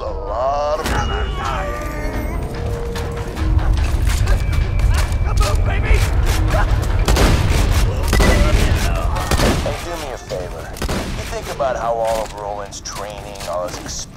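Grenade blasts and gunfire in Borderlands 2, booming explosions and bursts of shots scattered through the stretch, mixed with groaning game voices and other combat noise.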